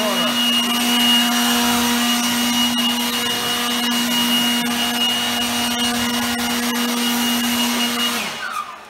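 CNC router on a 4x8 machine cutting the front panel of an arcade cabinet from wood, a loud continuous high whine with a steady spindle tone and grinding texture, close, winding down at the end.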